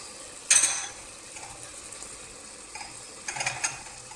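Soaked lentils and leftover dal are scraped from a bowl into a pot of cooking gosht. A sharp scrape comes first, then a faint sizzle and a short burst of spoon scrapes, all nearby and quiet.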